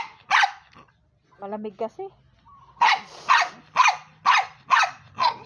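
A dog barks in a series of sharp, close barks after a short growl and a brief spoken phrase, the barks coming in a steady rhythm toward the end.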